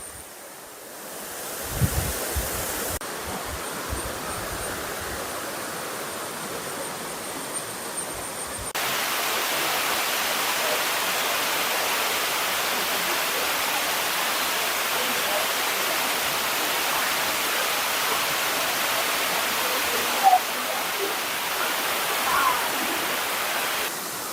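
Aruvikkachal waterfall in Kottayam, the district's highest, roars as a steady broadband rush of falling water, rising and holding level after a few seconds with wind buffeting the microphone near the start.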